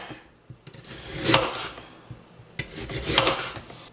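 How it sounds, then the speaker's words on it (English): A knife slices a garden vegetable into thin slices, two rasping, scraping strokes against a board about two seconds apart, close up, with small taps and knocks between them. "I'm just going to slice them with my knife. Just kind of thin slices here."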